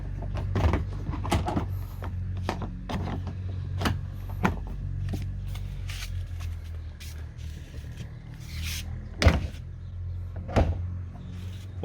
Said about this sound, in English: we close the door.